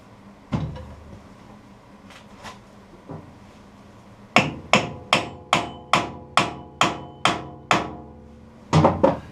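A hammer strikes a spur drive into a piece of wood for turning on a lathe, starting with a few scattered taps, then a steady run of about ten sharp, close, evenly spaced blows.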